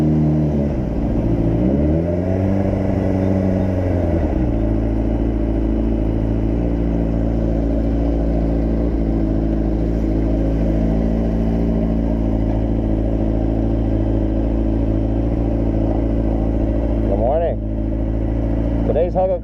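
A motorcycle engine revs hard while racing alongside another rider, its pitch climbing in an early surge and then holding a steady, close, loud drone with brief higher whines near the end; a voice is briefly heard.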